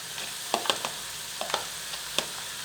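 Diced eggplant tumbles into a hot frying pan with sautéed vegetables, setting off a steady broadband sizzle broken by several sharp stirring clicks and scrapes, close and moderately loud, with no talking.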